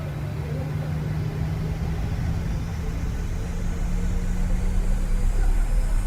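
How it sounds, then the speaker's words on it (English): Simulated Boeing 737 engines in the PMDG model for Microsoft Flight Simulator spooling up to takeoff thrust. A dense, steady roar with a low hum rises gradually in intensity over several seconds, and a rising whine comes in near the end. "Spool up sound is nice."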